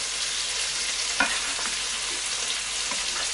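Chilies go into a pan of minced lamb and pea curry with tomato paste, and a steady, close frying sizzle continues throughout, broken by a few soft stirring clicks.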